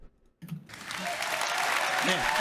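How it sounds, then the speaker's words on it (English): Sparse, hesitant clapping from a small group that builds into steadier applause, fairly close, with faint voices underneath, at a watch party for the Ubisoft conference. "That awkward as hell clap."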